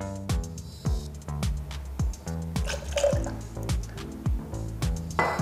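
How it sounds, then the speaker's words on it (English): Sugar syrup poured into a limoncello sour, a run of drips and glugs falling into a vessel in a steady irregular rhythm, close and fairly clear with no speech. "Twenty mils of sugar syrup."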